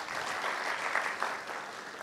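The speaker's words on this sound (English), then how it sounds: "Give him a round of applause, please" An audience at a university talk session gives a round of applause, a dense, steady wash of clapping heard from a moderate distance and fairly soft.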